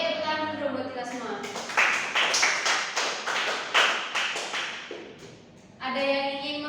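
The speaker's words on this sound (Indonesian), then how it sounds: "Oke, tepuk tangan dulu dong buat kita semua." Primary-school pupils in a fourth-grade Pancasila class burst into a round of group clapping, a dense patter of many hands that swells and holds for several seconds before fading, with children's voices heard before and after.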